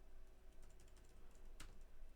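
Light taps on the keyboard of a Pinebook Pro laptop, a few soft quick clicks and one sharper tap, quiet against a steady hiss.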